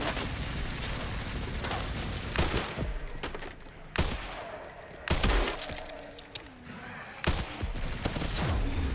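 Bursts of gunfire in the horror video game Resident Evil Requiem, with sharp broadband shots and rattling volleys scattered through a tense, noisy scene, several loud cracks standing out close by.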